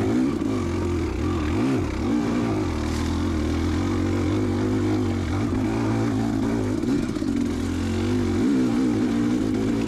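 Off-road motorcycle on wooded single track at Prospect OHV, engine droning loud and close throughout with steady revving and small throttle swells, no talk.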